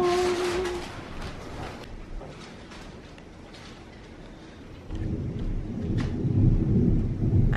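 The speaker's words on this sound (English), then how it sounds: "it started to rain really heavy" A heavy rainstorm with thunder in North Carolina, heard from near a house: a low rolling thunder rumble builds and swells loudly near the end over a steady wash of rain.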